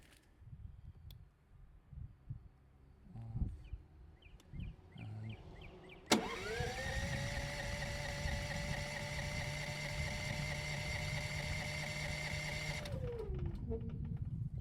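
Predator 9500 generator started on its battery: an electric starter whirs briefly, then the engine catches with a sharp onset and runs at a steady, loud, even drone for several seconds before cutting back near the end.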